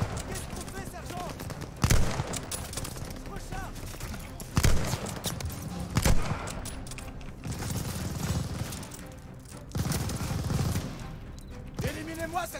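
Gunfire from a World War II battle in Call of Duty Vanguard, with sharp loud bursts at intervals over a steady rumble of combat noise, and voices talking throughout.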